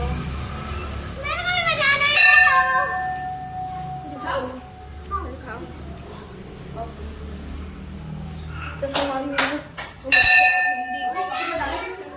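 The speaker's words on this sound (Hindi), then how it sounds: "तो सबसे पहली घंटी से स्वागत करते हैं संगवारी हो।" A temple bell rings with clear metallic strikes and ringing tones in two main bursts. It sounds close, over a busy crowded background with children's voices and chatter.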